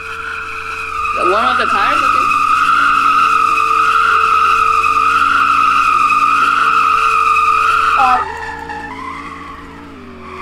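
A 2013 Chevy Camaro or Dodge Charger does a burnout to warm its tires, giving a loud, steady tire squeal over a droning engine for about seven seconds before it cuts off, with a brief spoken word.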